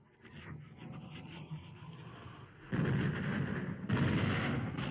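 British battleships Rodney and King George V firing their naval guns on the Bismarck on a May 1941 morning: heavy rumbling cannon blasts that roll together, swelling into louder sustained thunder partway through.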